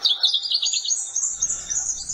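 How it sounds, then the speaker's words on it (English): A pink robin (Petroica rhodinogaster) gives a run of thin, high chirping calls, clear and fairly close, with no voices present. "Today's featured feathered friend, Petroica rhodinogaster,"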